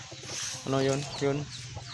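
Free-range chickens and hens on a farm, two short bursts of near clucking over a quiet yard background.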